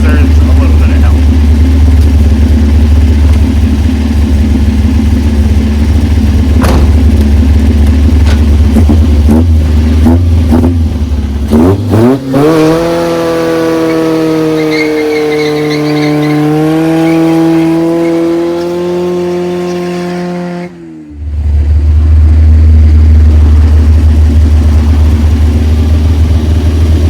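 A modified Te51 takes a corner and climbs a street on two wheels, the engine droning loudly before its revs climb in a rising howl that holds, then cuts off suddenly as the steady rumble returns.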